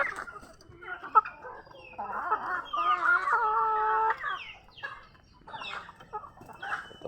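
Hens cluck and squawk near at hand in a run of calls mixed with higher peeping from chicks, rising into a loud, drawn-out burst before trailing off into scattered clucks.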